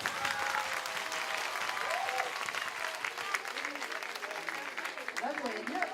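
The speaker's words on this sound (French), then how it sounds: "vous allez taper dans les mains et applaudir très fort" Audience at a dance and fitness club's 30th anniversary party clapping and applauding loudly, a dense continuous wash of hand claps with cheers and voices mixed in throughout.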